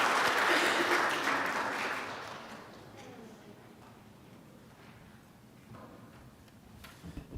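At a school parent meeting, a brief round of audience clapping at moderate volume tapers off after a couple of seconds into quiet room noise with a few stray sounds.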